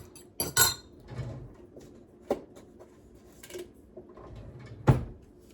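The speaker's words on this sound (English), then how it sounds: "Let's stir up this milk." A spoon stirs milk in a kitchen pot, making a few sharp metallic clinks and scrapes spaced irregularly across several quiet seconds.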